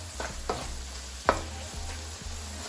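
Coconut curry shrimp being stirred in a pan, a low sizzle under a few distinct scraping knocks of a utensil against the pan, one sharper clack in the middle, close and fairly quiet.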